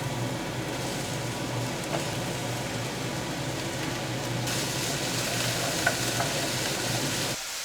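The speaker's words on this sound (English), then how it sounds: "We're sauteing our veggies." Vegetables sautéing in a pan, a steady close sizzle with faint stirring and a clink or two, running continuously before cutting off abruptly near the end.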